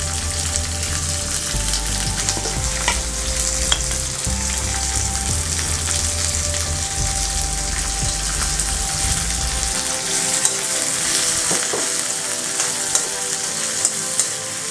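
Onions frying in a pan for a prawn thoran, a dense, loud, continuous sizzle close by with a low mechanical hum underneath for most of the stretch and occasional faint clicks, no voices.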